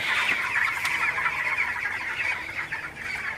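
A flock of 21-day-old broiler chickens in a hot shed clucks and chatters continuously, a dense, busy layer of overlapping calls with no talking.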